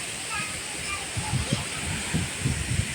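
Water gushes fast into a field, a loud continuous rushing roar with occasional sloshing surges, and faint voices may be heard underneath.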